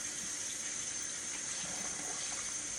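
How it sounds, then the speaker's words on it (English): Tap water pours steadily into a fufu mixing bowl, a close, even hiss and splash that runs unbroken and with no talk. "Put water in there."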